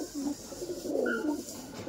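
A female Madrasi pigeon gives a soft, low coo close by, a short murmuring call against faint background noise.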